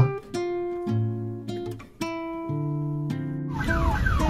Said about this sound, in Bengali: পেছনে একটা অ্যাম্বুলেন্স আটকে পড়ে আছে, শুনতেই পাচ্ছেন আওয়াজটা